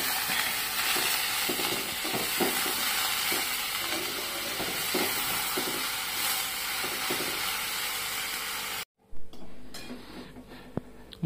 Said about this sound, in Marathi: इकडे तेलामध्ये कांदा भाजते मस्तपैकी